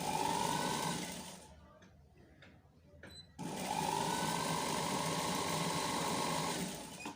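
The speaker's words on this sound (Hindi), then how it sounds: "आप सिलाइयाँ लगाते जाएं" A sewing machine runs in steady whirring bursts while stitching pintucks on sleeves, pausing briefly in the middle before resuming, fairly faint and close, with no talk.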